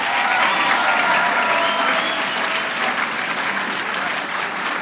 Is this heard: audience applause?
yes